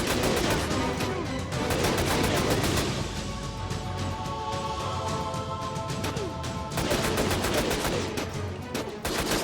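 Rapid streams of video game gunshots in Syphon Filter: The Omega Strain, with dense automatic bursts at the start and end and a quieter stretch of lingering impacts between them.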